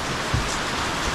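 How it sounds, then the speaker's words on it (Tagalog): Rain falls straight down in a steady, even wash of noise over misty mountains, close and fairly loud, with no voices. "Buti diretso na lang yung bagsak ng ulan ngayon."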